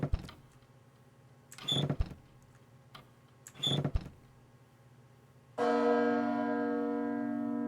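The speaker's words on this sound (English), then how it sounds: "The bell!" A bell rings once with a sustained, loud metallic tone that slowly decays, preceded by mechanical clanks and creaks from gears and a lever being worked; no talk.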